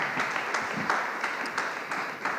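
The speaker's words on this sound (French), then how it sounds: "on peut les applaudir" An audience at an architecture colloquium on off-site construction applauds briefly, the clapping fairly close and uneven with individual claps standing out, and no speech on top.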